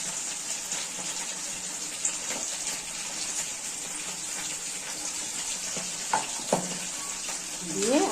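Spice paste of chilli, tomato, ginger and cumin sizzling and frying in a wok, a steady close hiss with occasional stirring scrapes and brief voice at the end.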